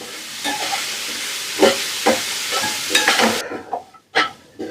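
Dill leaves and chopped onion frying in oil in a pan for a Kannada-style lemon rice, a soft steady sizzle broken by several scraping stirs, close by, ending in a brief quiet moment and a last clink.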